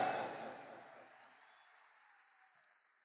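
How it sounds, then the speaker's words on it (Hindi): Audience applause for Trilok Chhabra at an RCM stage event in Delhi, a loud burst of many clapping hands that fades steadily over about three seconds into a faint tail. "मैं आदरणीय त्रिलोक छाबड़ा जी के लिए मैं भी ताली बजाना चाहता हूं"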